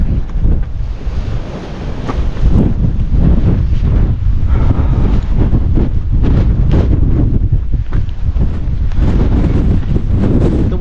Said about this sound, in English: The wind is just like shoving me round.